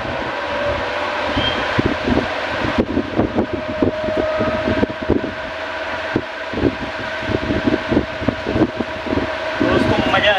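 An electric fan fitted with a double set of blades runs at full speed, giving a steady whirring drone with fluttering, rattling pulses, while a person talks nearby.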